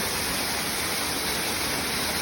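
A steady, unbroken wash of clear, cold water streaming from a cave rushes evenly throughout, with no voices over it.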